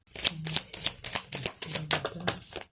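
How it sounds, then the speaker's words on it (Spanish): A tarot deck is shuffled by hand, giving a rapid series of crisp riffling card flutters in an even rhythm, close and clear, with no talking. "vamos a barajar con el tarot de la frecuencia"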